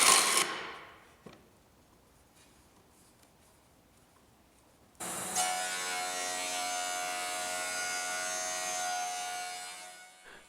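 Woodworking machines spin down with a fading whir, then after a quiet gap a jointer or planer starts up loud and close, its steady high motor whine and cutterhead buzz running evenly while flattening glued-up wooden boards.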